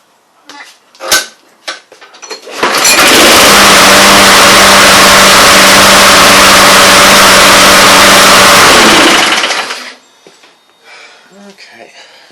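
A Briggs and Stratton 190cc small engine, with a new gasket and cleaned carburetor, fires up after a few quiet pulls and runs loud and steady for about seven seconds before cutting off.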